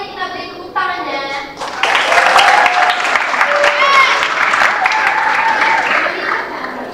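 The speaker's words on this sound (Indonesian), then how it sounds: "Mari kita beri tepuk tangannya." An audience at a school drama performance by an eighth-grade class breaks into loud, sustained clapping and cheering, with children's voices mixed into the applause near the end.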